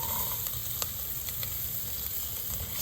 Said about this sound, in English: now we have garlic and ginger ready to be put in the pan